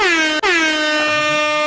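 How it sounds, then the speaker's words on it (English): A single loud, blaring air horn blast with a very brief break near the start, heard alone and up close. "Air horn!"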